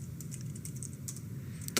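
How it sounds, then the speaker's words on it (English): Quiet typing on a computer keyboard at a Linux terminal, a handful of soft scattered keystrokes over a low background hum, ending with one sharper key press. "And now if I type ls"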